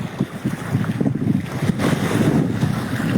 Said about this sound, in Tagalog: Nananampal lang kasi yung mga hangin dito